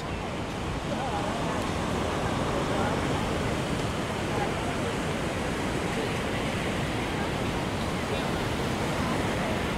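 Sea waves rolling onto Ramakrishna (RK) Beach in Vizag, where rocks lie in the water, a steady broad wash of surf close by, continuous and loud with no pauses throughout.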